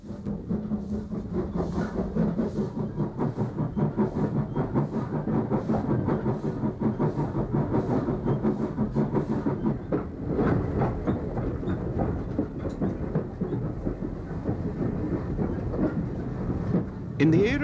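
A narrow gauge Talyllyn Railway train travels up the line with a continuous rumbling run and a regular clickety-clack of wheels on rail joints, with a voice talking over it.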